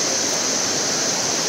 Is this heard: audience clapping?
no